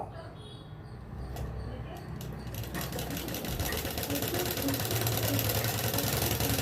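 A sewing machine stitches a sleeve onto a ready-made dress, its motor running in a steady mechanical whir that grows louder and denser partway through, with a person talking over it.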